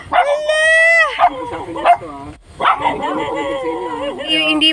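Several dogs bark, yip and whimper close by in excited bursts, with people talking over them.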